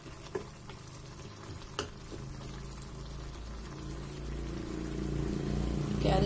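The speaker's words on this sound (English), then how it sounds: "It's bubbling well" Carrots and tomato bubbling in a cooking pot of water, a steady simmering hiss with a few sharp pops that grows gradually louder toward the end, with no talking.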